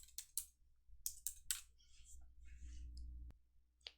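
Quiet clicks of a computer mouse and keyboard while text is entered in PowerPoint: several soft clicks come in short bursts, with a brief sharp click near the end over a faint low hum.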